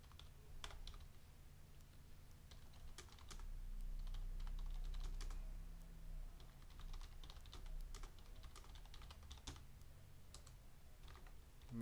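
Typing on a computer keyboard while editing text, a continuous stream of soft, fairly quiet key clicks with irregular rhythm over a low steady background hum.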